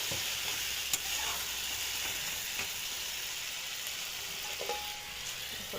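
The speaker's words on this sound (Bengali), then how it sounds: "আর আলুটা দিয়ে মশলাটা কষাচ্ছি।" Potatoes fry with spice masala in a pan while being stirred, a steady soft sizzle running throughout with a few faint scrapes and clicks, no talking.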